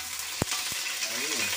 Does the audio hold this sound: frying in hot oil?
yes